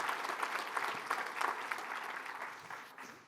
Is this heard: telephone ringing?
no